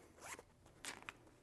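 A continuous zipper on a handmade fabric pouch is pulled in two quick scratchy runs, soft and close, with brief pauses between strokes and no talking.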